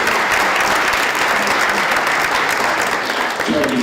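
Audience applause at a school board of education business meeting, a dense, steady wash of many hands clapping close by that holds for the whole stretch and thins slightly near the end.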